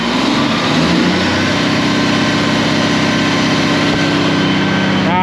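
A diesel-type engine with a fan clutch runs loud and close, its steady throbbing drone rising in pitch as it is revved and held high, with no talk over it.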